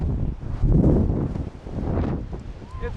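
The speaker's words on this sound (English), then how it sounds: "It's a bit windy, a little bit cold." Strong, cold wind blows outdoors and buffets the microphone in a loud, low, gusty rumble that surges and eases over a few seconds, with no talking.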